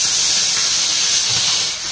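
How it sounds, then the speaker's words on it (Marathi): A pressure cooker whistle gives a loud, steady steam hiss that fills the whole two seconds and dips slightly near the end. "आम्ही काही बोलायला लागलं तर कुकरने मध्ये शिट्टी दिलीच पाहिजे"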